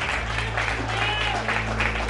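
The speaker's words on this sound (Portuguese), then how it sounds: "Quem crê, aplauda bem forte" A church congregation at a Pentecostal missions congress claps loudly and steadily, a dense wash of applause over a low sustained hum, with voices faintly mixed in.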